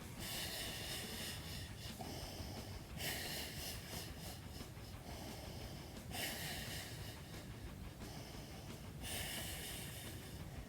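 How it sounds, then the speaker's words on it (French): Deep, slow exhalations through the nose during a pilates hundred exercise, repeated in a steady breathy rhythm roughly every three seconds, close and alone. "On expire bien profondément par le nez."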